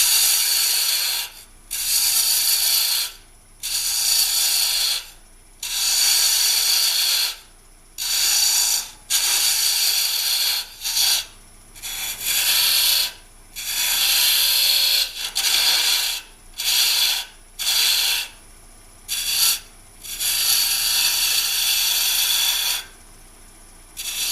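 Diamond-shaped carbide tool cutting spinning wood on a lathe, a loud, hissy scraping in repeated bursts of a second or two separated by brief pauses, close and steady.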